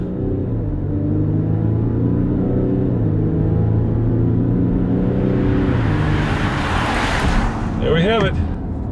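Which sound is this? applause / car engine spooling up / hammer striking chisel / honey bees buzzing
car engine spooling up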